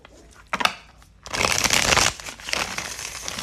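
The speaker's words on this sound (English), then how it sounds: "So let's do a shuffle." Tarot cards are shuffled by hand in brief crisp bursts, a short riffle followed by a longer rustling shuffle, close and alone.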